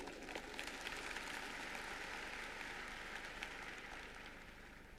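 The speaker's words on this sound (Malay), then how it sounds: "Tepuk tangan ke MK Wong." An audience applauds MK Wong at a senior director event in Jakarta, a dense, steady patter of many hands clapping at once, faint and fairly distant, with no voices on top.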